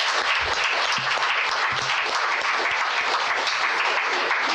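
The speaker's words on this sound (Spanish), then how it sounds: "Pero el aplauso para Dios es fuerte, es con ganas." Clapping from a church congregation swells into loud, sustained applause, a thick wall of many hands beating at once. It holds steady at full volume from start to finish, with faint low murmurs underneath.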